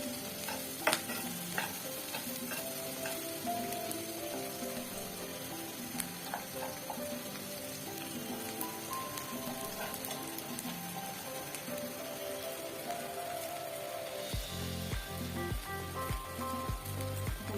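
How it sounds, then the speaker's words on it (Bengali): Onions fry lightly in a pan with a soft, steady sizzle. Faint stirring scrapes and small ticks sit over a quiet background hum. "পেঁয়াজ হালকা একটু বেজে নেব, বেশি ভাজা ভাজা করবো না।"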